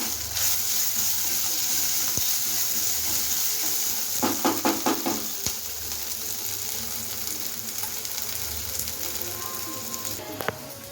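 Crushed thecha and a pinch of asafoetida hit hot oil already holding curry leaves, giving a loud continuous sizzle with a burst of sharp stirring clatter partway through.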